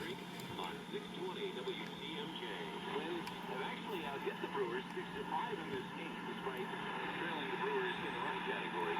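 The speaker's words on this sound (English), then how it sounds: "Hear quite a bit more static." Static hiss and crackle from a C. Crane Skywave SSB2 radio tuned on the AM band, a continuous even noise wash with faint warbling underneath, steady throughout at moderate level.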